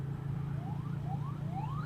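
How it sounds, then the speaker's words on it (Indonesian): An ambulance siren wails faintly in rising sweeps behind a motorcycle on a wide twin-lane road, its repeated glides sitting over a steady low engine and road drone. "Ambulan di belakang. Oh gak ngunekno sirine."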